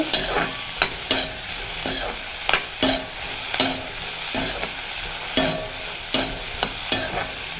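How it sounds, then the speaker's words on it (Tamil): Steady sizzle of onions or vegetables sautéing in oil with a pinch of turmeric powder, with regular clicks and scrapes of a spatula stirring the pan, all fairly close and with no voices. "இதை நல்லா வதக்கிட்டு"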